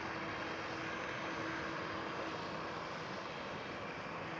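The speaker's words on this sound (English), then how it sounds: "Right here we are being approached by a KLM 737." A KLM Boeing 737 approaches at Schiphol airport as a steady, broad engine roar that stays loud and even throughout.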